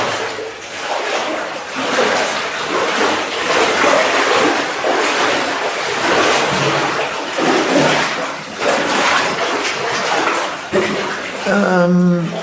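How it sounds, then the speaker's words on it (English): Water pours down ahead in a lost gold mine tunnel, a continuous close rushing wash that swells and eases, with a brief voice near the end. "Here's a fair amount of water coming down ahead."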